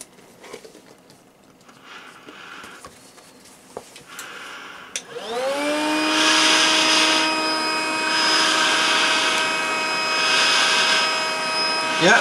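A homemade respirator blower system feeding an S10 gas mask, quiet scuffling and handling at first, then the blower spins up at about five seconds into a steady loud whine with a hollow rushing airflow that continues to the end.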